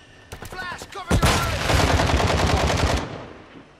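Rapid automatic fire from an M4 in a Call of Duty: Modern Warfare II multiplayer match: a few scattered shots, then a loud, sustained, dense burst lasting about two seconds before it cuts off.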